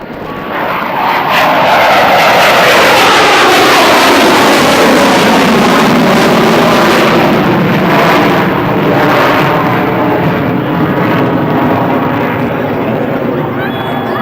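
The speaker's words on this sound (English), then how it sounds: "Major Duckworth has now lowered his landing gear to prepare for a slow-speed pass, while the F-16 can fly at more than twice the speed of sound." An F-16 fighter jet makes a slow-speed pass with its landing gear down at an air show at Andrews Air Force Base, a loud, roaring engine rising and sweeping past with a falling Doppler pitch.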